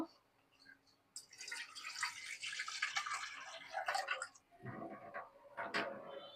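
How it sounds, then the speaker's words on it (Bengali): Water pours into a pan of simmering curry for a few seconds with a splashing, bubbling rush, followed by a brief hiss and some clattering; quiet and close. "ঝোলের পানি দিয়ে দেবো"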